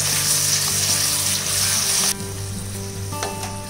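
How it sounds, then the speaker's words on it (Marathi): Prawns roast in ghee over a medium flame in a Mangalorean-style masala, giving a steady, close frying sizzle that carries on unbroken and drops a little in level partway through. "कोलंबी आपल्याला तुपावर रोस्ट करायची आहे व्यवस्थित."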